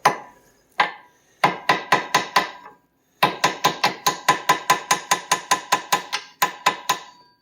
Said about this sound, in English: I took a hammer and then knocked these down